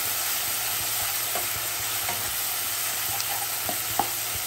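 Green chilies and curry leaves fry with meat in a pan, a dense continuous sizzle with faint clicks of stirring and a few sharper pops, close and steady throughout.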